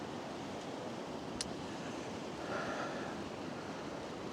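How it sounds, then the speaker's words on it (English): Steady broadband rush of a creek flowing beside a Colorado campsite, constant and fairly faint with no voices. "Convenient having a creek right here"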